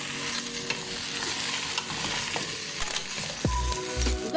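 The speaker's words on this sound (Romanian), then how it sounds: "Amestecăm, s-au călit legumele noastre" Vegetables sizzle steadily in a hot pan as they are sautéed for a cauliflower dish, with scraping and clinking of a utensil stirring them, close and continuous, and a louder scrape near the end.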